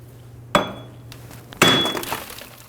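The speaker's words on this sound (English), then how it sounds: "Using a large hammer, we're going to hit around this hub and pop it out of the knuckle" A large hammer strikes a wheel hub on a 2007-2011 Toyota Camry to pop it out of the knuckle, two sharp, ringing metallic blows about a second apart, each followed by a brief clanging decay, with a faint hum between them.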